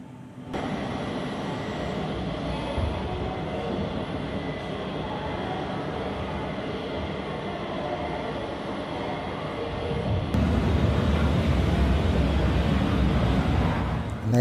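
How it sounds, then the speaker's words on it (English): A train rumbles steadily past at close range, its broad roar holding level, then swelling louder near the end. "Oh, and a train. That snuck up on me."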